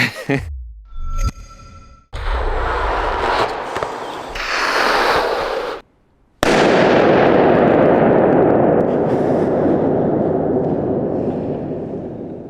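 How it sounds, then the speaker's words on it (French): A grenade explosion erupts as a sudden, very loud broadband blast that rolls off into a long, fading rumble, following several earlier sharp bangs and shots recorded in a near-silent anechoic room. "Ça c'est une grenade."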